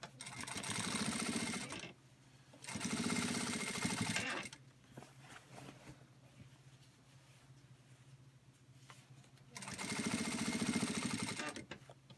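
A Singer industrial sewing machine sews a seam in three short, close bursts of rapid whirring stitching, separated by quiet pauses filled with soft handling of fabric.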